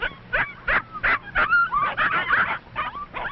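Seven young puppies of a mother dog whimper and yip in short, close, high-pitched bursts, several overlapping cries coming in an uneven rhythm with brief gaps between them.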